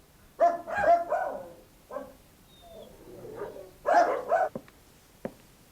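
A small dog barks several times in short bursts, close and fairly clear, with brief pauses between the barks in a quiet setting.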